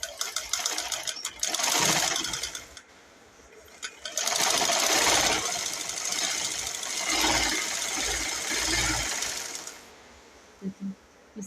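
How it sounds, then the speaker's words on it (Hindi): Sewing machine stitching the final seam of straight-cut trousers, running in fast bursts of rapid mechanical whirring with short pauses between runs, close and loud. "इसको अब हम फाइनल इसकी सिलाई जो है वो लगा रहे हैं।"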